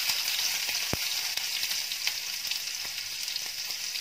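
Pieces of hilsa fish fry in hot oil, a dense, steady crackling sizzle held close and even throughout, with a few faint clicks of a utensil and no voices.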